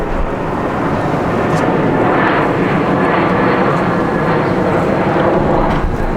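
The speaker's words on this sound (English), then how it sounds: "I don't know if you can see all these planes up there" Aircraft passing overhead in Egypt's open airspace, a steady, loud, continuous roar of engine noise filling the whole stretch without a break.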